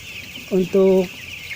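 Chickens around ten days old in a fan-ventilated poultry house, with two short clucks over a steady, loud fan hum.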